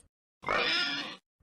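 A single short, nasal grunting oink lasting under a second, fairly loud and close, with silence around it.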